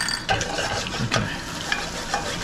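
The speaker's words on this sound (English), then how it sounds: "Some ginger and garlic that's being toasted right now in butter" Ginger and garlic toasting in butter sizzle steadily in a pan, with repeated scraping stirs and soft clicks of a utensil running through the crackle.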